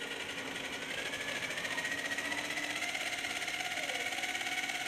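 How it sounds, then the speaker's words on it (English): A tachometer test rig for an F900 anti-skid system spins steadily up to 1000 RPM, giving a continuous, even mechanical whir and hum at moderate loudness with no talking. "we'll just go ahead and bring this right up to 1000 RPM"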